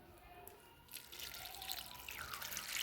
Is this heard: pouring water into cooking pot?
yes